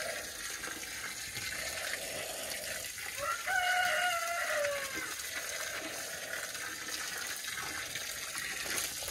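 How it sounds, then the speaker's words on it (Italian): A hen crows once at moderate distance, a drawn-out call rising and falling, over a steady outdoor background hiss, in rural Celle Ligure, Italy. "C'ho la gallina del vicino"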